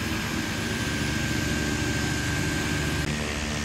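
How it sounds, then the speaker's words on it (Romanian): A light aircraft at a skydiving dropzone sits on the ground with its engine running before takeoff, giving a steady, loud engine drone with a constant tone throughout and no talking. "avionul stă să primească liber la decolare"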